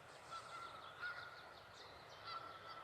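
Canada geese honking during a spring tramp near Harper Pass, a few repeated calls at moderate distance over steady outdoor background noise.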